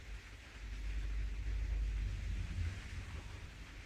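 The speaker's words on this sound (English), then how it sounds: "The rain's really coming out and down here today" Rain falls outdoors in the hills of Spain, a faint, steady wash of broadband hiss with low rumbling gusts, continuous and distant, with no voices.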